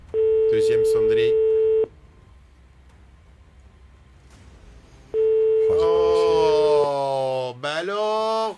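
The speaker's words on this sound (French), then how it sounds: "Deuxième sonnerie." An outgoing phone call's ringing tone during a live prize-draw broadcast on Polynésie La 1ère: two long steady ring bursts separated by a quiet gap, with voices and layered tones overlapping the second ring.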